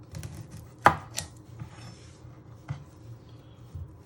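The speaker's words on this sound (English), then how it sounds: "you chop your end off your cucumber" A knife chops the end off a cucumber on a board: one sharp, close chop, then a couple of lighter knocks, while a low hum and faint kitchen noise sit underneath.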